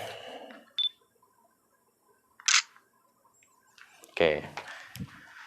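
A DSLR camera takes a test photo at ISO 6400, 1/80 shutter and f/3.5. A short electronic focus beep is followed by a crisp mechanical shutter click, and a voice speaks briefly afterward.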